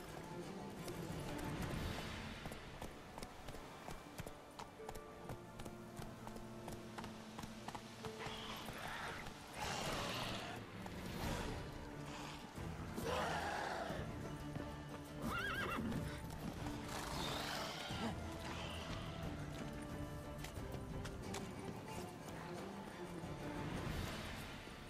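Roach, a horse in The Witcher 3, runs with continuous clip-clopping hoofbeats and lets out several neighs, all sitting under a steady bed of background music and ambience.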